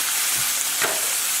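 Beef and diced tomatoes frying in a pan, giving a continuous close sizzle with a soft stir partway through.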